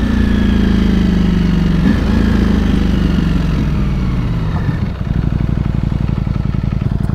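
Ducati Panigale V4S motorcycle being ridden, a loud, steady engine roar close to the rider, with a brief dip in revs near the end before it pulls again, wind noise underneath.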